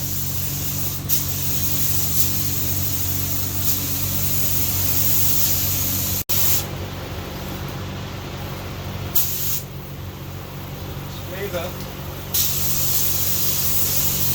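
Spray gun painting a 1991 Honda CRX Si in a shop: a loud, steady hiss of atomized paint running continuously, with brief pauses and trigger releases, close by and without talk.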